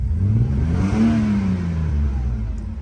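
Car engine revving up and easing back, a mid-pitched rising and falling roar with an uneven sputtering stumble through the rev, close and loud with no talking.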